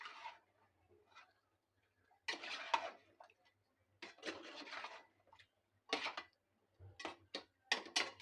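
Chana dal and beef stirred together in a cooking pot, with a series of sharp clinks and scraping taps of a spoon against the metal arriving in irregular bursts, close and fairly quiet, no talking.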